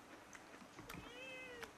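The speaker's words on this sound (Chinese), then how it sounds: "你喵喵喵的叫" A cat meows a few times nearby in a home kitchen at mealtime, short rising and falling calls over quiet room noise, with no talking.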